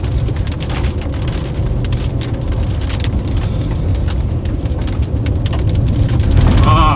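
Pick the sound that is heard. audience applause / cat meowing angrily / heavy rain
heavy rain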